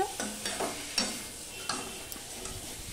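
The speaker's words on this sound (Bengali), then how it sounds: "এবার পটলের সাথে মিশিয়ে নিয়ে আমি আমার মিনিট খানিক কষিয়ে নিচ্ছি" Pointed gourd being stirred and sautéed in oil in a pan, soft scraping strokes of a spoon over a faint steady sizzle, close and quiet, no talk.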